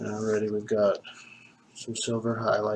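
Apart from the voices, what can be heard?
None of the usual background noises is heard.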